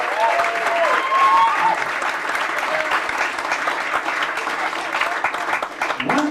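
Concert audience applauding a jazz guitarist at a trio show, a dense, steady wash of clapping that holds loud throughout with a few cheers mixed in.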